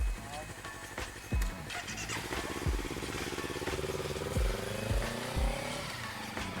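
A motorcycle engine revs and idles with a smooth, steady exhaust note, broken by a few sharp thumps, while people talk over it.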